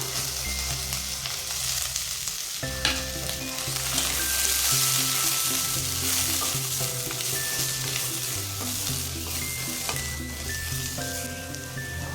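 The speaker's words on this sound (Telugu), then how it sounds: "పచ్చిమిర్చి వేగిన వెంటనే ఇంకా ఆనియన్స్ని అయితే వేసుకుంటున్నాను" Onions tipped into a pan of green chillies already frying in oil, sizzling steadily and loudly up close, with pan clatter and music playing throughout.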